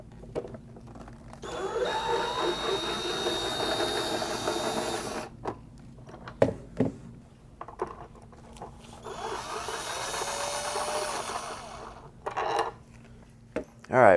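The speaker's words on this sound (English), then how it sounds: "so I'll remove those screws" Screws on the clamp of a Hayward pool multiport valve being backed out with a power driver: two sustained whirring bursts separated by clicks and handling knocks, close by.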